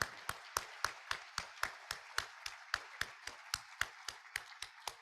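Applause at a hybrid Rotary club meeting in Gainesville: a steady run of sharp, evenly spaced claps, close and distinct, continuing for several seconds with no talk over it.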